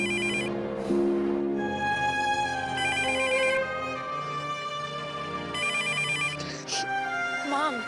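A telephone rings steadily in a domestic drama scene, its repeated electronic tone running throughout under background music and voices, moderately loud and close.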